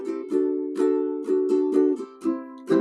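A ukulele strums a simple chord progression, each chord struck in short rhythmic strums with clear ringing tones, played close and alone.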